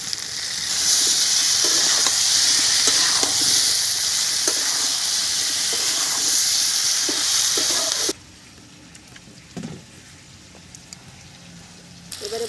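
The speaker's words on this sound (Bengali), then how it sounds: "দিয়ে দিচ্ছি টমেটো কুচি।" Chopped tomatoes sizzle loudly in a hot pan for a vegetarian potato and pumpkin curry, with light stirring taps over the hiss. The sizzle then drops abruptly to a quiet, soft simmer.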